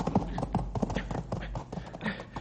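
Horse hooves clip-clopping in a rapid, uneven rhythm, fairly close, with a low background hum.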